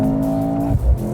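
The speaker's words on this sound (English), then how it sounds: "that's AMG sound." A Mercedes-AMG C43 with a 2-liter four-cylinder engine accelerates. The engine and exhaust give a brief, loud, steady drone, then the tone drops sharply partway through.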